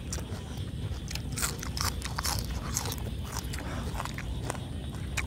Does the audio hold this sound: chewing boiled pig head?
yes